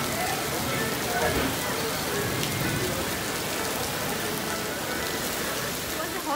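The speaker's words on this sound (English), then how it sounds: "और बहुत ज़ोर से बारिश आ रहा है." Heavy rain pours steadily and loudly at the Imagica theme park in Lonavala, a dense unbroken hiss of drops hitting surfaces nearby for the whole stretch.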